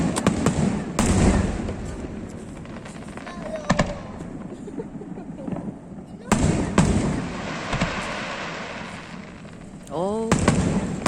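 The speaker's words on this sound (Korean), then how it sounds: "불꽃놀이 해요." US Independence Day fireworks in Hoehwa-ri, Korea, sound as repeated booming bursts and crackles at a moderate distance, with a rising whistle near the end, while people talk nearby.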